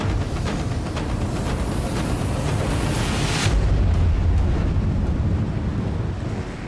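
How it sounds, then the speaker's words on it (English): A huge cargo ship's engine approaches at sea. It makes a deep, heavy rumble mixed with wind buffeting, which swells louder about halfway through and stays close and powerful. "The boys have been woken by a huge cargo ship heading directly towards them."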